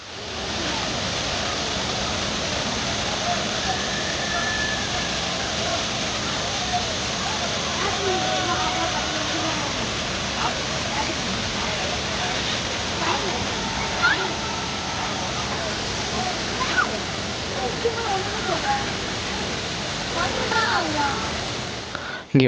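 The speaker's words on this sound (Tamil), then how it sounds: "இந்த ஃபால్ஸ் பார்த்தீங்கன்னா இயற்கையாக இருக்கிற கொடையாறுன்ற ஆறில் ஆர்டிஃபிஷியலாக அந்த ஃபால்ஸ் செட்டப் க்ரியேட் பண்ணியிருக்காங்க" Thirparappu waterfall on the Kodayar river in Kanyakumari, an artificially set-up falls in a natural setting, roaring as a steady dense rush of water, loud and continuous throughout.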